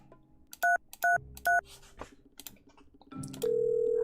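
A telephone number is dialed in the video game Agent A: three crisp, evenly spaced keypad tones, then a few clicks and a steady tone that holds to the end, with no speech.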